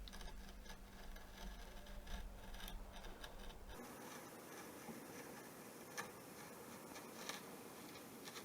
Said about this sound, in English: Just going to start with a V-chisel and outline all of the big shapes.